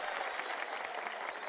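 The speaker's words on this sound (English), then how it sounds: "Give me a round of applause if you agree." A studio audience on a live music review show applauds, a steady dense wash of clapping that holds at an even level for the whole stretch, with no voices over it.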